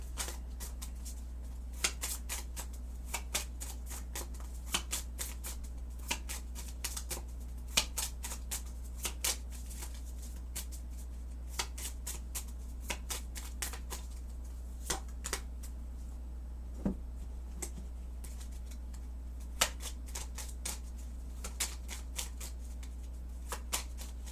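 Oracle card shuffling, rendered as a long run of quick, crisp riffles and flicks with no talk over a steady low hum.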